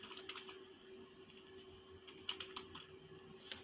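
Faint keyboard typing on a computer while entering text into an Excel spreadsheet, scattered light key clicks in short bursts close by in a quiet room.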